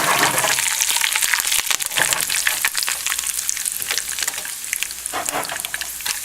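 Red chilies and curry leaves crackle and sizzle loudly in hot oil with mustard seeds, a dense, continuous frying hiss with rapid popping throughout.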